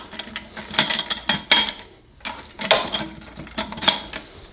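A ball peen hammer peens a pin on a handmade flintlock trade gun wiping stick, producing several sharp metallic taps in uneven clusters, close and fairly loud.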